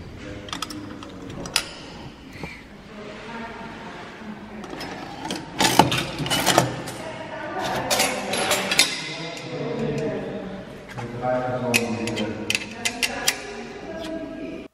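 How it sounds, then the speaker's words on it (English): A token machine at Corvey in Germany presses a souvenir token with steady mechanical clattering, ticking and clinking, close by and busy throughout. "This is the token machine."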